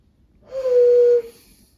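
A nose flute sounds a single clear, sustained whistling tone lasting under a second, close and fairly loud, with soft breathy noise before and after.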